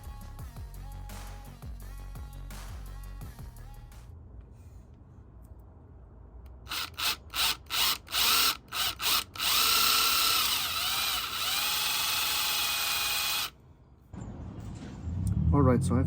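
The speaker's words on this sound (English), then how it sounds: "Alright, so I finished drilling." A power drill bores a hole through an oil catch can mount for a fifth-generation Camaro, sounding in several short bursts and then a long steady run, loud and close, with quieter handling noise before and after.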